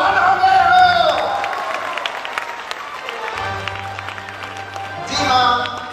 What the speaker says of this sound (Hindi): ताली तो अब इस तरह बजाओ मेरे यारो